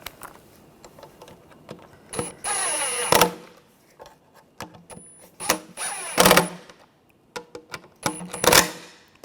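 A cordless power tool tightens the intake manifold bolts on a 2009-2013 BMW 328i xDrive 3.0L inline-six in several short whirring bursts, with clicks and ratcheting between them.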